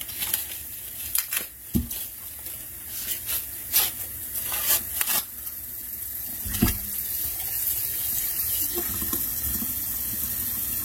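Tap water runs into a cooking pot holding a ham bone for beans, a steady close rushing with a few clunks and splashes of the pot shifting beneath the stream.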